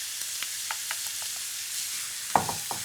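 Squid stir fry for a Sri Lankan dish being tossed in a hot pan, a steady broadband sizzle with several soft stirring scrapes and one sharper clatter near the end.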